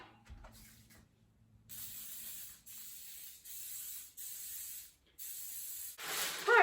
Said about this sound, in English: Coconut oil spray.